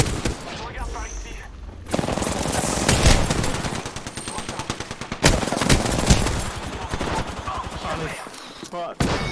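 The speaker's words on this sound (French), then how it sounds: "Je suis sous les tirs." Rapid bursts of automatic gunfire and overlapping shots fill a fast-paced Apex Legends firefight, loud and dense with brief pauses, while players talk over the action.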